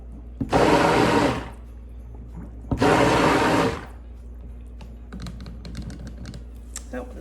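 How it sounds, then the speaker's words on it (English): A stick blender mixing goat milk soap whirs in two short bursts of about a second each, loud and buzzing, followed by quieter clinks and handling noise. "I'm gonna hit this with a stick blender."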